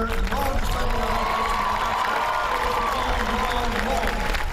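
A large crowd at a Hillary Clinton rally cheers and applauds in a steady, dense roar of mixed voices and clapping that holds for the whole stretch.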